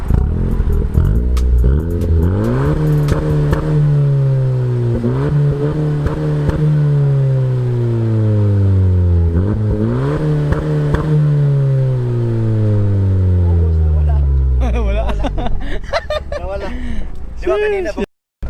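A Honda Civic Sport Touring hatchback with a Greddy Supreme SP exhaust accelerates hard, its loud exhaust note rising through several gears with a drop at each shift, and a voice is heard briefly near the end.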